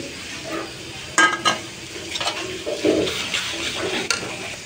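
Dried fish (shutki) goes into a pan with salt and a little turmeric and is stirred as it fries, giving a steady sizzle broken by several louder scraping, clattering stirs close by.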